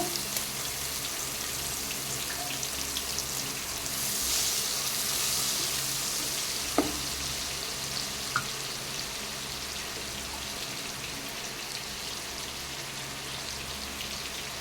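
Chopped onion frying in a pan for a Bengali-style bhola fish dish, a steady soft sizzle with faint crackles throughout, a brief louder swell early on and a couple of small pops.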